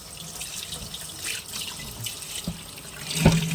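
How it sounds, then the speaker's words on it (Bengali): Mung dal is rinsed under a running kitchen tap, with a steady close stream of water splashing into the sink and a sharper splash near the end. "ডালটা একটু ভালো করে ধুয়ে নিই"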